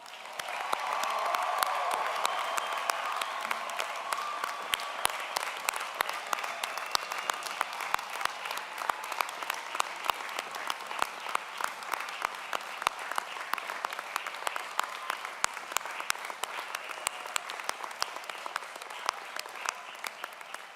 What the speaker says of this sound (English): Could I ask for one vigorous, excited round of applause for every graduate today?